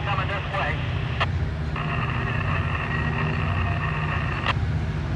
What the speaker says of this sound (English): There's another train switching it.